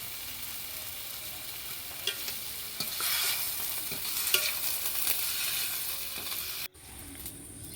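Bengali spice paste with turmeric stirred and sizzling in hot oil in a pan for a tilapia and lote fish curry, a steady loud frying hiss with scraping stirs throughout, briefly cut off near the end, no talk.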